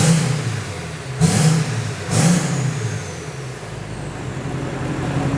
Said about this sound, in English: give it a couple taps on the throttle